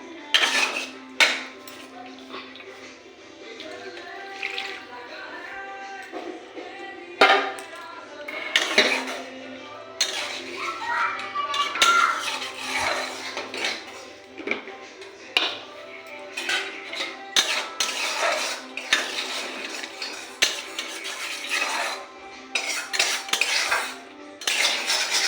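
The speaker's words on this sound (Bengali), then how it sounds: "মাছ ভাজাও হয়ে গেছে, বের করব।" Metal pan and utensils clatter and scrape as fried hilsa fish is lifted out of the pan, a steady run of close clinks and knocks through most of the stretch with no talk.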